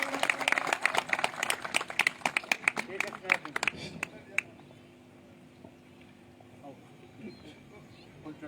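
Applause welcoming a guest at a Dr. Bhim Rao Ambedkar birth anniversary celebration: a burst of sharp hand claps that thins out and stops after about four seconds, leaving quiet room sound with faint movement.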